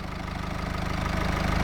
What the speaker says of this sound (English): Has a 2-litre turbo diesel 4-cylinder engine